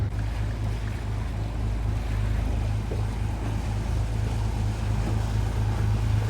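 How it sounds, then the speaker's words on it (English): A sleek motor yacht motors past a sailboat anchored in the Bay of Islands, its steady low engine drone and churning water running continuously, with wind and lapping waves around it. "We had a big Nord Haven motor yacht going past before, and now we've got this pretty sleek looking one."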